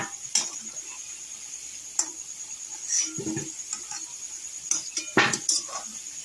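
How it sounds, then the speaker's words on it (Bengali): Fried potatoes being lifted from a hot pan, with a run of light metallic clinks and scrapes of a utensil against the pan and a few louder knocks, close by with no talking. "আলুটা এবার তুলে ফেলা হচ্ছে"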